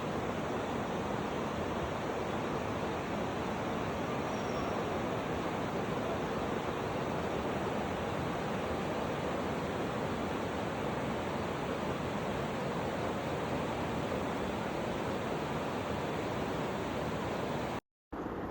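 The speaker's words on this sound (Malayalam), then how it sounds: "മുകളിൽ നിന്നും താഴോട്ട് അതിമനോഹരമായിട്ടാണ് വെള്ളമൊഴുകുന്നത്." Kanthanpara waterfall in Wayanad, Kerala, pours down in a constant, even rush of water, a soft, far-off hiss that runs unbroken with no voices and cuts off briefly near the end.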